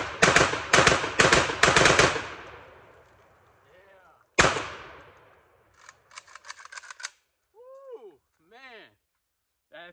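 A Draco pistol with a binary trigger fires a fast, loud string of shots at close range, then a single sharp report after a pause, followed by people talking.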